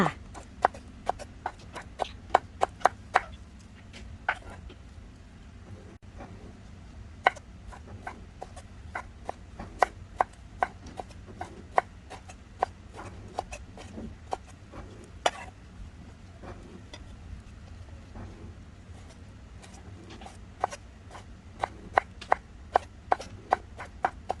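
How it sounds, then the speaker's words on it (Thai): A knife chops bamboo shoots on a cutting board in a kitchen, giving quick bursts of sharp, quiet taps in uneven runs with short pauses between. "ให้เพื่อนๆ ดูวิธีการหั่นหน่อไม้กันไปก่อนค่ะ"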